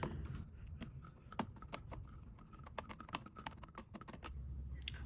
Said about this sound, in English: So you just need to loosen that up and unscrew it.